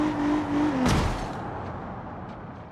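A Toyota Camry 3.5 engine roars steadily while accelerating hard, then a sharp bang cuts through as the engine blows and the note drops away, leaving a rougher, fading rumble.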